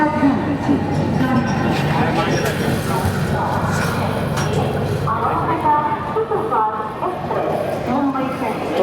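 A Saurashtra Janta Express passenger train runs steadily after departing Surat, giving a continuous loud rumble with the rolling clatter of the carriages and murmuring voices inside the coach.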